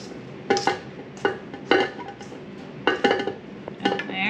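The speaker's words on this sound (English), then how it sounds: "Just gonna put some of those in and just mix them in a bit." A spoon scrapes and clinks against a bowl while chocolate chips are stirred into edible cookie dough, giving six or seven short, sharp knocks spaced irregularly over a quiet background.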